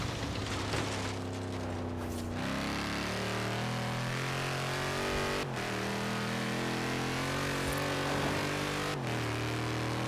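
A car engine runs loud and close throughout, its pitch stepping up and dropping back through several gear changes as it accelerates, with a continuous droning roar and no voices.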